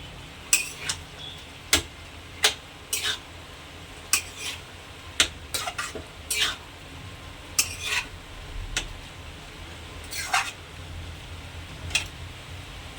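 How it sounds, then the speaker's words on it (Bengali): Mutton and cabbage being mixed together in a cooking pot, giving a run of scattered sharp metallic scrapes and clinks of a utensil against the pot at an uneven pace, fairly close, with no talking. "মাংস আর বাঁধাকপি ভালোভাবে একদম মিশিয়ে দেবেন"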